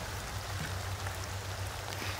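Steady rain falls in The Sims 2 video game, a dense continuous hiss of drops with a low hum beneath, with no talk over it.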